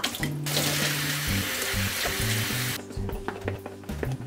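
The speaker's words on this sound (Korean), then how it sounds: "오이랑 도라지랑은 찬물에 헹궈서 물기를 제거해 줄게요." Cold tap water running over salted cucumber and bellflower root in a sink, a steady close rushing stream with brief splashy changes as the vegetables are rinsed, then handling noises.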